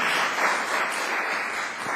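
Applause breaks out at a city public safety committee meeting in Oakland, a steady, moderately loud patter of clapping from the gathered audience across the whole moment.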